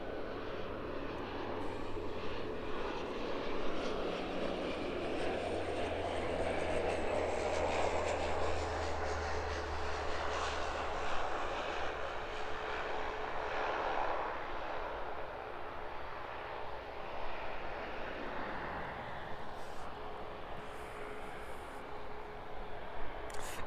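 A passenger airplane touches down on the runway at East Midlands Airport in the evening, its engine roar broad and sustained, swelling and then fading as it rolls out into the distance.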